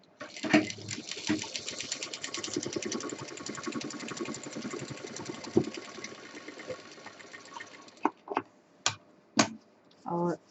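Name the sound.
sewing machine stitching plain and quilted fabric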